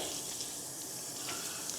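Lukewarm tap water runs steadily from a faucet for washing a wig, a continuous close hiss with no talk over it.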